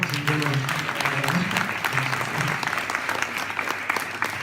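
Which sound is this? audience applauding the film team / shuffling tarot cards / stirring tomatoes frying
audience applauding the film team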